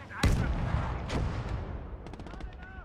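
Two sharp sniper rifle shots ring out in the WWII game Gates of Hell, about a second apart, each with a booming tail over a steady battlefield rumble, followed by fainter distant crackles.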